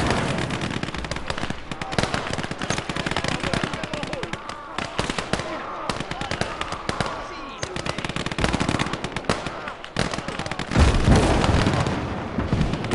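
Sustained heavy gunfire and explosions from a battle against a heavy tank in the game Call to Arms: Gates of Hell, dense continuous rattling bursts with booming impacts throughout, loud and chaotic.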